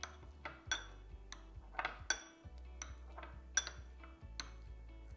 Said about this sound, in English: just take a spoon, and since it's nice and soft, just mix it all together until that butter is infused with the black pepper